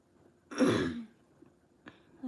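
A single throaty clear of the throat, short and near, followed by quiet and a faint click.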